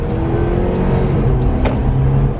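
A 2019 Mercedes A250 with a seven-speed dual clutch transmission pulls hard under acceleration, its engine note loud and steady from inside the cabin with no voices over it.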